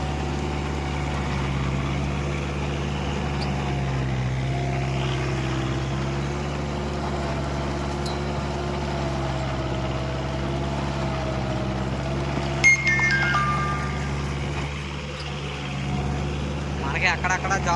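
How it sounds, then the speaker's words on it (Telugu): A tractor engine drones steadily at working rpm while rotavating a field, a constant low hum throughout, with someone talking over it. "చూసారు కదా బండి ఆర్పీఎం ఎంత రన్ ఉంటుంది"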